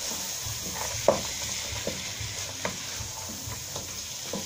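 Sweet corn and peas are stirred together in a cooking pot, with a low sizzle and a few distinct spoon knocks against the pot at uneven intervals, close and fairly quiet.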